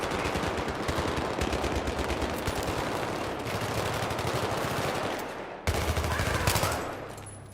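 Rapid automatic gunfire in Battlefield 3 on the Back to Karkand online map, dense overlapping bursts of shots running continuously, loud and close, with a brief drop before a fresh sharp volley near the end.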